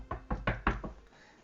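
A voice imitates a fancy knock on a door: four quick, rhythmic, close thuds followed by a softer fifth, loud and dry with nothing else underneath.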